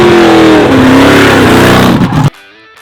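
A Fox body Mustang engine revs hard and loud at close range with a rising, snarling tone that holds for about two seconds, then cuts off abruptly into near silence.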